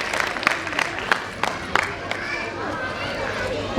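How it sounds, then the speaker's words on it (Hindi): Audience applause welcoming guests at a school's annual function, a steady, moderately loud patter of many hands with sharper claps near the start and crowd murmur and voices underneath. "एक बार जोरदार तालियों को स्वागत करें हमारा अतिथियों का।"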